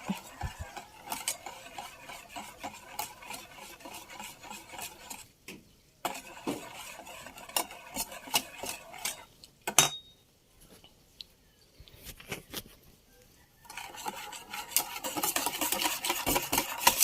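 Guyabano (soursop) ice cream mixture being stirred in a bowl, with rhythmic scraping and clinking of a utensil against the container, coming in bursts separated by short pauses and growing busier near the end.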